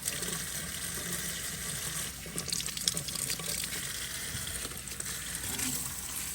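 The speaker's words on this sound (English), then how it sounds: "Rinse them with cold water." Cold running tap water splashes steadily into a sink, rinsing drained garden peas, with a brief gush and clatter partway through; no talking.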